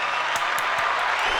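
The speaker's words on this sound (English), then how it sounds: "a round of applause" A round of applause, likely a sound effect, plays on a comedy podcast: dense, even clapping at steady loudness with a few sharper claps standing out, and no talking over it.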